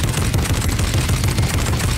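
A turret mounted on the Battle Bus in the video game Fortnite fires rapid, continuous loud bursts of gunfire in a dense, steady rattle with no pauses.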